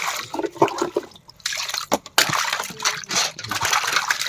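Small fish are rinsed under water, with splashing and trickling that comes in uneven bursts and short gaps, close and moderately loud.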